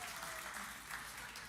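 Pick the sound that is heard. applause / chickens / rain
applause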